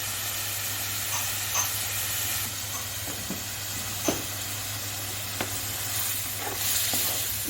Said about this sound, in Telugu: నూనెలో ఉల్లిపాయలు వేసాను